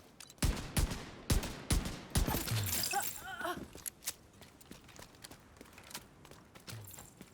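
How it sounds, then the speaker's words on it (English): Bursts of gunfire in an online shooter video game, several sharp shots scattered across the moment with a short volley near the middle, mid-distance over ambient game noise. "Opening fire!"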